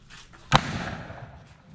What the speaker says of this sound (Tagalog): ito pag sinindihan natin. Lagapak na talaga. Yan yung kanyon natin yan, kanyon.